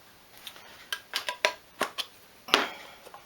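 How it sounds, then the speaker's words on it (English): An old tin of Waitrose beeswax has its metal lid worked open: a close series of sharp clicks and ticks, then a louder pop and rattle as the lid comes free. "I can get the lid open"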